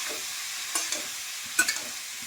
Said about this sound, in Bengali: এটা আমি ভাজি, সবজিটাকে ঠিক মতো করে একটু কষাই